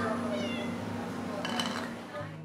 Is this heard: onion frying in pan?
no